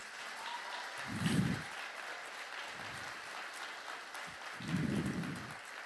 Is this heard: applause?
yes